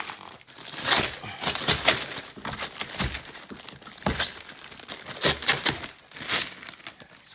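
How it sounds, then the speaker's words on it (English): Plastic wrapping being peeled and torn off a new Power Wheels Porsche 911 GT3 ride-on toy car, close and loud crinkling and crackling in repeated bursts throughout, with no talk. "That's what you call unwrapping. Unwrapping a new Porsche. GT3."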